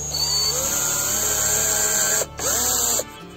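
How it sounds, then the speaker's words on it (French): A power drill boring at a slant from below into wooden battens fixed for a homemade partition in a camper van, a steady high whine running for about two seconds, a short pause, then a second shorter burst. "Donc là je perce légèrement en biais, c'est volontaire."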